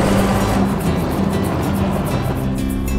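Vintage Rolls-Royce Silver Ghost cruising along hilly country back roads, a loud steady engine rumble mixed with rushing wind and road noise, continuous and close with no speech.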